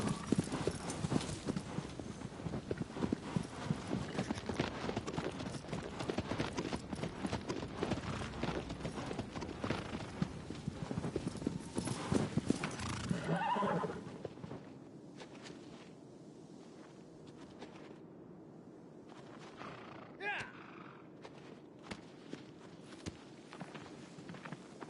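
In the video game Shadow of the Colossus, a horse's hooves clip-clop in a fast, busy rhythm that slows and thins out to a few scattered steps against faint wind, with no talking.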